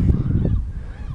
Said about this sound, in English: of course the gull chorus, yeah, just as effective as the hallelujah chorus